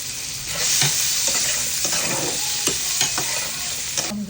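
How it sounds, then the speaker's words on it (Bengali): Salted potatoes fry in hot oil in a pan, a loud continuous sizzle broken by repeated scraping stirs and clacks of a utensil. "আমার আলুগুলো ভাজা হয়ে গেছে নামাই নিব"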